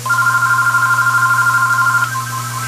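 A telephone rings loudly in a home kitchen, a steady electronic warbling tone pulsing rapidly for over two seconds before cutting off, heard alone with no talk.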